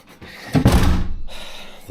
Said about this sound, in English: The door's pretty violent.